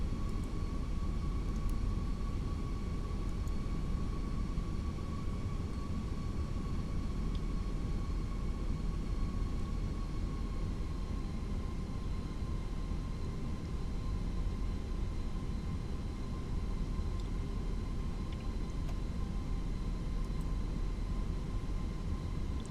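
An Airbus A320 departing in the Fenix A320 flight simulator gives a steady, quiet engine drone with faint sustained whining tones, unbroken and alone.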